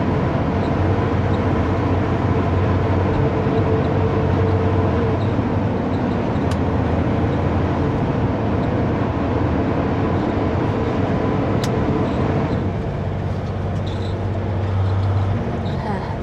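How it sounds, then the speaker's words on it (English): Loud, constant broadband roar of a large cooling fan heard inside a truck cab on a snowy highway, steady throughout with an engine rumble underneath. "Yeah, the fan is loud."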